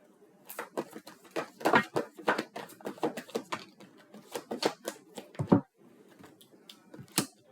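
Tarot cards being shuffled and drawn up close, a dense run of crisp flicks, riffles and snaps with brief pauses between bursts, no talking.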